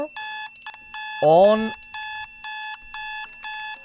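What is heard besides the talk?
anchor alarm sounding from Raspberry Pi boat server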